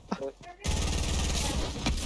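Rapid automatic gunfire from the Fortnite video game bursts in after a brief pause and rattles on continuously, loud and dense, with players talking briefly before it starts.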